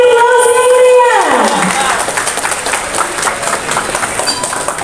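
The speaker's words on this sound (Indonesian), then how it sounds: "Kita beri aplaus yang meriah." Audience applause at the inauguration of a new hospital building at RSUD Sidoarjo, a dense wash of clapping and crowd noise that swells after a held tone and continues steadily for several seconds at moderate loudness.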